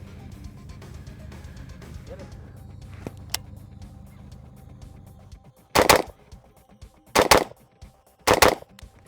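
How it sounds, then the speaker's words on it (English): Three pairs of loud, sharp unsuppressed rifle shots ring out, each double fired in quick succession, close to the listener, after a stretch of low background hum. "We'll do 3 strings of doubles with no suppressor, and then we'll throw the can on and compare the difference."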